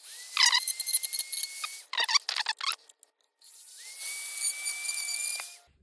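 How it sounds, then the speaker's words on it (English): A Dremel rotary tool fitted with a stone bit grinds against an epoxy surface, a high whining buzz that comes in several bursts with short pauses between, fairly close and with no talking. "I'm actually just gonna use a stone bit on the end of the Dremel here"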